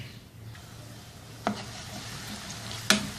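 A finely chopped medium onion sizzles steadily in two to three tablespoons of hot oil in a pot, with a soft continuous fry and two sharp clinks of a spoon stirring it.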